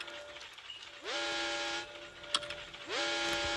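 Polar Express train in the Granny 3 video game sounds two drawn-out whistle blasts with a rising onset, separated by a short pause over a quiet rumbling background.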